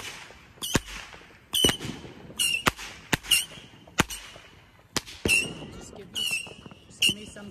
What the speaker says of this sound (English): That thing's a slow Saturn missile.